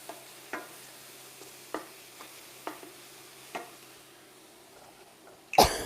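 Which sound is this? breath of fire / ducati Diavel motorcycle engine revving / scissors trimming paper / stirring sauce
stirring sauce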